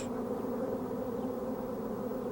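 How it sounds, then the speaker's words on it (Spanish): Dense, steady buzzing of many bees emerging from small holes in desert ground, a close continuous hum with no voices. "En estos momentos están naciendo una gran cantidad de abejas que salen desde pequeños orificios en el suelo."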